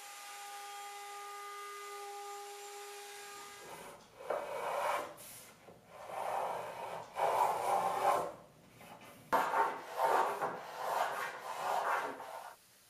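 A light chamfer being cut along the front and top edges of bubinga cabinet side panels, heard as a series of close raspy rubbing strokes in irregular bursts after a few seconds of quiet hum.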